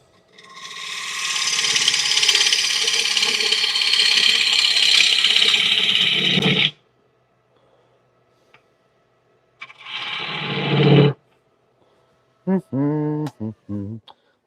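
Wood lathe spinning a workpiece at about 1100 RPM, a loud steady rasping scrape for several seconds, then silence, a second shorter cutting burst, and brief knocks and tonal squeaks near the end.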